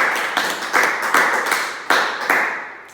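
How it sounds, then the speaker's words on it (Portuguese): A church congregation claps together in a loud, steady rhythm, with about eight strong beats close by and a roomy echo trailing after each. "Você pode dar um forte aplauso ao Senhor Jesus?"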